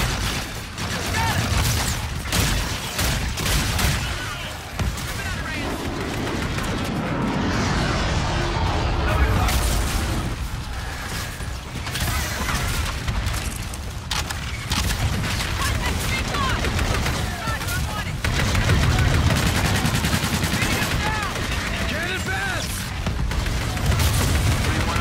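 Bursts of rapid gunfire and heavy booms from a Call of Duty: Infinite Warfare battle repeat throughout, with voices talking over the continuous combat noise.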